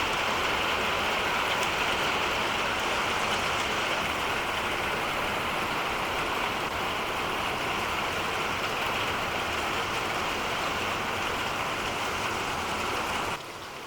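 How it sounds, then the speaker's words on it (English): Rain falls steadily and densely close by, an even, unbroken hiss of drops that continues without letup before easing slightly at the very end. "So I'm just going to let the rain stop"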